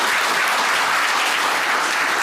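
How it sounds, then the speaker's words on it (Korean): Reporters and party members applaud at a New Year press conference held by the Rebuilding Korea Party, a thick, continuous burst of clapping at an even level with no talk over it. "큰 박수 다시 한번 부탁드리겠습니다"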